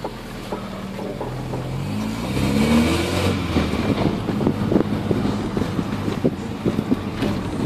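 A Volkswagen Gol 1.8 with a carburettor, out on a street test drive, its engine note steady and then rising into a loud rev around the middle, with road and wind noise continuing throughout and no talking.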